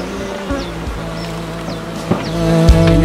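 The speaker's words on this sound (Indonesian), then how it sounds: "Ini ada ratusan kotak lebah kita punya di Rio, di perkebunan sawit, dan sampingnya di hutan akasia." Bees buzz steadily around hundreds of hive boxes set in an oil palm plantation beside an acacia forest, a continuous droning hum with a few brief nearby passes and no talk.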